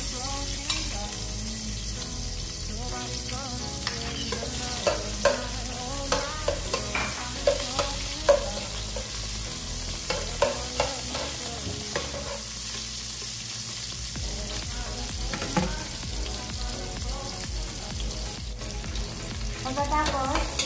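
Onions sautéing in hot oil for ginataang alimasag, a steady sizzle running throughout with frequent scraping stirs and clicks from the pan, close and fairly loud, no voices.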